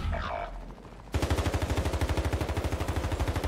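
Sustained rapid automatic gunfire from a player's weapon in Warzone 3, a fast steady burst of evenly spaced loud shots following a quieter muffled opening.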